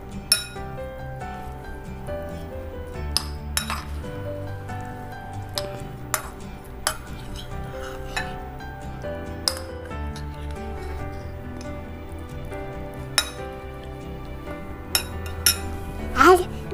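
Gentle clinking of a spoon against a bowl while creamy corn is mixed with Italian seasoning, light repeated taps over a faint steady background, ending in a brief louder clatter.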